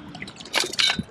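Feet sloshing through shallow river water beside a concrete walkway on a spring salmon fishing trip, a couple of close splashy steps with dripping water.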